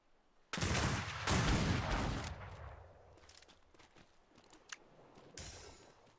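Naval guns fire in a Roblox navy roleplay, with two sharp, booming salvos in quick succession that trail off into rumble, then a fainter third shot a few seconds later.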